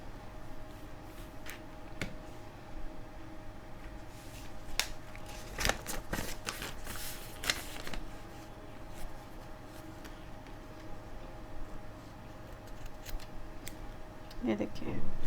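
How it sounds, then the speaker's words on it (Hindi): Scissors snipping through a fabric tassel for a small handmade purse, a series of crisp close cuts clustered in quick bursts with pauses between, alongside light handling noises. "अब इसको हम काट लेंगे। यहाँ पे काट लीजिएगा इस तरीके से।"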